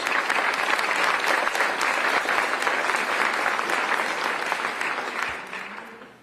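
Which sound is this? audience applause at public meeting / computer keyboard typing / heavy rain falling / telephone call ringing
audience applause at public meeting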